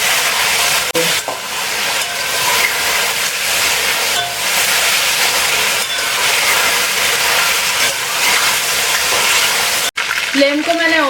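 Chicken pieces fry over a high flame in oil, making a loud, dense and steady sizzle that runs unbroken throughout, with a brief clatter near the end.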